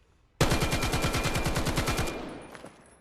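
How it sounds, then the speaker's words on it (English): A rifle fires a rapid full-auto burst of about fifteen evenly spaced shots in VAIL VR, close and loud, then the sound rings out and fades. "this gun usually spawns in a semi, but you can change it to full auto, as you can see"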